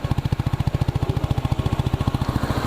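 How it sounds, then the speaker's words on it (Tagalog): A Euro Motor Falcon 180i ADV scooter engine idles close by in a steady, even putter of rapid pulses that continues without change, with no voices. "Tapos yung tunog ng makina."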